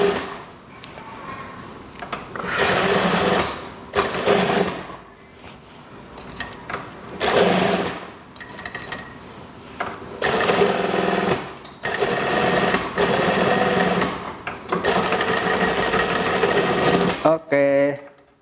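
An electric sewing machine stitches a kimono-sleeve house dress in repeated loud, whirring bursts of a few seconds each, separated by short pauses.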